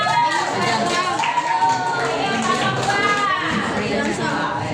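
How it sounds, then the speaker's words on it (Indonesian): A classroom group claps steadily in a dense, continuous patter that carries over a few seconds, with voices mixing in underneath. "Oke, kasih tepuk tangan."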